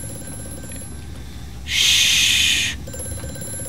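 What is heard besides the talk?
telephone ringing in Amnesia: A Machine for Pigs video game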